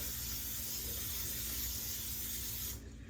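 A continuous close hiss of cooking spray misted onto an oven-proof baking pan lined with parchment paper lasts nearly three seconds, then cuts off abruptly.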